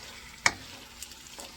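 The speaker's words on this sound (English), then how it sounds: "If it's like sizzling, guys, like sizzling, that means that it's frying." Pork adobo frying in oil left from sautéing onion and fat rendered from the pork, giving a faint, steady sizzle with one sharp crackle and a few softer pops.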